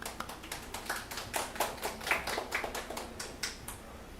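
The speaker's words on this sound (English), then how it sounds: "Please welcome her with a big applause." Scattered applause from a small crowd, a patter of uneven claps that thins out toward the end, fairly quiet and with no one speaking.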